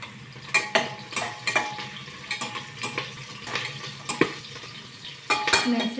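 Green chillies crackle and splutter in hot oil for masala pulao, with a continuous close sizzle broken by sharp pops and the occasional scrape of a stirring spoon.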